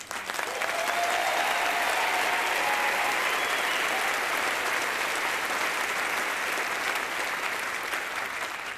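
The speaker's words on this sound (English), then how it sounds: "that deserves some applause." Sustained applause from an audience at an awards ceremony, a dense, even wash of many hands clapping at once that holds steady for several seconds and tapers slightly at the end, with a few faint cheers mixed in.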